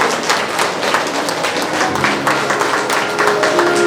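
Loud, dense audience applause at a Parvati Pyramid seventh-anniversary program in Parvati Nagar, Ballari, sharp claps sustained evenly for several seconds with a faint tonal hum underneath.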